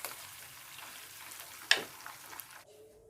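Fish deep-fries in hot oil with a soft, steady sizzle and one sharp spatter or clink partway through, then the frying drops away near the end.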